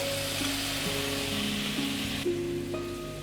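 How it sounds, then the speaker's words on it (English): Spiced butter sizzles in a pan used for masala pav, giving a close, steady hiss with a soft crackle for a few seconds, with a faint tonal hum underneath. "Into the same pan, I'm adding some spiced butter"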